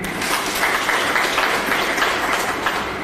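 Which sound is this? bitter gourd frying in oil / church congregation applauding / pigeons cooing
church congregation applauding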